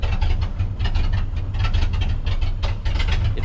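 A 1932 three-window car idles in cold weather, its engine giving a steady, close, low throbbing rumble with a rough, uneven chuff running through it. The sound is heard alone, without any voices.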